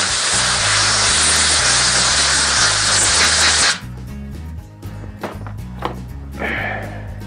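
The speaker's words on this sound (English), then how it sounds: "So what you do, you just take compressed air." A loud, steady hiss of compressed air blowing blast media out of a carburetor float bowl and its overflow tube, lasting several seconds over low machine music, then cutting off into short bursts and clatter.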